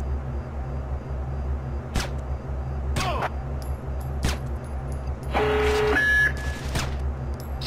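Security alarm in the stealth game Splinter Cell: Pandora Tomorrow, a burst of electronic alarm tones over a low steady hum, preceded by several sharp whip-like cracks.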